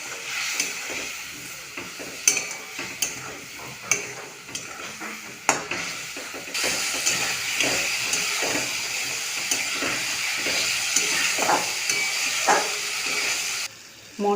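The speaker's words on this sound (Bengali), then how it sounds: "সামান্য পরিমাণে জল দিয়ে মশলাটা কষিয়ে নেব।" Spice paste of salt, turmeric, cumin, coriander and chilli powder with a splash of water sizzles steadily in a pan for a katla fish curry, with repeated clinks and scrapes of a spatula stirring through it.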